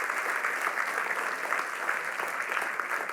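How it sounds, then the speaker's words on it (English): Steady, dense applause from a large audience at a university startup pitch night, sustained clapping without breaks throughout, with no voices standing out. "So let's give the Wheeler School a big round of applause too."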